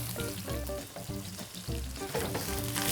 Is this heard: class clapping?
no